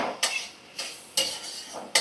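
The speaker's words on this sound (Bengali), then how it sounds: "একটু ভালো করে নাড়াচাড়া করে নেব" Capsicum, onion and beans frying in a pan are stirred with a utensil, giving four sharp scraping strokes at a steady, unhurried rhythm over a soft, continuous sizzle, close up and with no talking.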